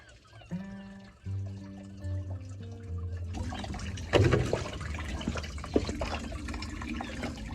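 Coolant runs out of the drain tap on a Range Rover L322 TD6, a steady trickling and splashing stream that swells after a few seconds and continues alongside a faint hum.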